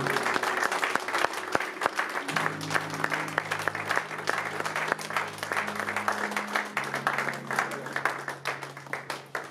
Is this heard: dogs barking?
no